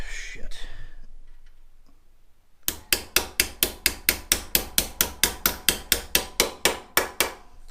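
Rapid, evenly spaced hammer blows on a car coolant line, about twenty sharp metallic strikes in a steady rhythm, close and loud, after a few seconds of muffled talk and quiet shop noise.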